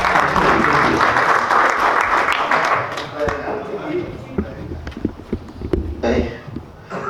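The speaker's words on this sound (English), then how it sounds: "Let's give him a round of applause" Conference audience applause at a men's mental health event in Namibia, loud and dense at first, then thinning into scattered claps and murmuring voices as it fades out.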